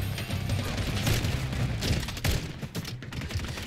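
Rapid JAK Thumper explosions in a video game fire as a loud, continuous barrage of thudding bursts and crackling gunfire with no pause.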